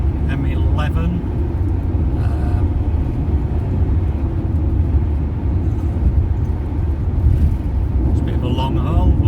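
A car drives down the M11 motorway in England, a steady close road rumble of engine and tyres running the whole time, with people talking over it in a few places.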